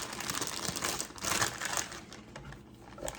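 A plastic piping bag being filled with cannoli filling crinkles and rustles steadily at close range, a continuous crumpling texture with no speech.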